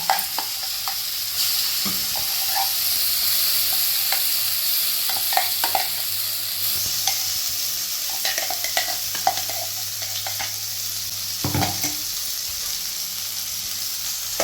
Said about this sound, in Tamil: எல்லாம் சேர்த்து நல்லா வதக்கிங்க. எண்ணெய் பிரியிற அளவுக்கு நல்லா வதக்கி எடுத்துக்கோங்க.